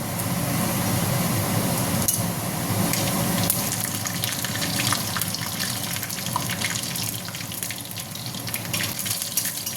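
Cumin seeds, bay leaf and dried chilli sizzle in hot oil, a dense continuous crackling hiss with scattered sharp pops, loud and close throughout.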